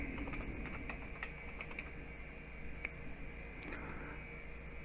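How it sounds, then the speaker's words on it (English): Quiet typing on a computer keyboard, soft scattered key taps over a faint steady hum, no talking. "All you have to do is type."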